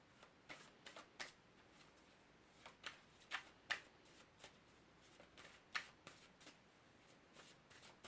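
Tarot cards are shuffled and dealt, giving quiet, crisp snaps and flicks in an irregular run of about a dozen soft slaps close by, with no talking.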